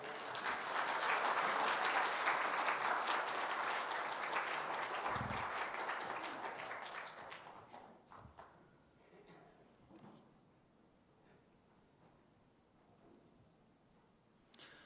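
A church congregation breaks into warm applause to welcome a guest preacher at a revival meeting, a loud dense roll of clapping that fades out over several seconds, leaving a quiet hall with faint rustles and a few stray sounds.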